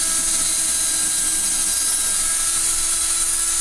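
A power drill bores into a wooden wall stud with a continuous, loud, harsh whirring whine that holds steady from start to finish, close and alone.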